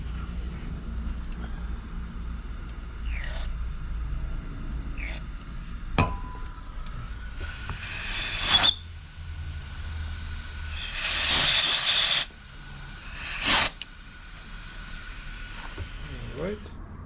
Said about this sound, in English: I use electrical contact cleaner, so let's start with this one.